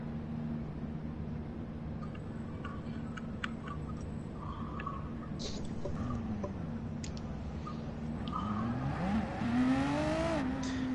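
Racing car engine revving in the Gran Turismo video game, a drift car; a steady engine drone with brief tire squeals and sharp clicks, then the revs climb in rising sweeps near the end.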